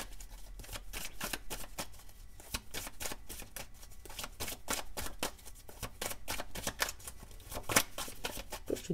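Symbolon oracle cards are shuffled in a quick, near, papery riffle of dense flicks and slaps that goes on without pause, with a few sharper snaps toward the end.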